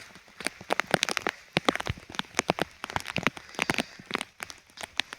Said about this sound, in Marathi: आता पाऊस जोरदार चालू आहे.